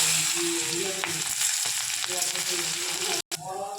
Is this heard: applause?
no